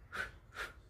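Two sharp, forceful exhales pumped through the nose during a breathing exercise, close and breathy, about half a second apart.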